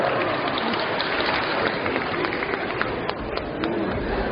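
Applause from the audience at a preliminary round of the Korean televised singing contest Jeonguk Noraejarang in Boryeong, a dense steady wash of clapping that holds at an even level throughout.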